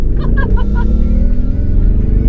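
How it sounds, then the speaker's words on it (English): An electric Mercedes G580 G-Wagon launches hard with mud from an off-road course flopping in its wheel arches, a loud, dense low rumble and road roar, with a voice exclaiming briefly early on. "there's some mud on the tires that you can hear flopping around in the wheel arches"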